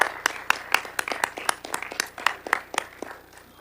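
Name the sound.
audience applause for student inductees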